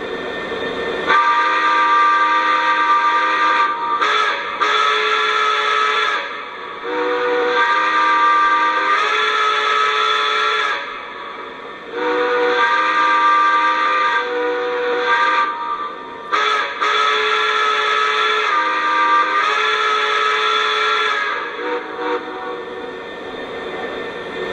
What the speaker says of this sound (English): let's give a listen to the whistle.